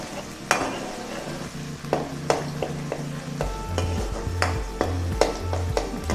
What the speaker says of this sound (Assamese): মছলাখিনি অলপ ভাজি লওঁ।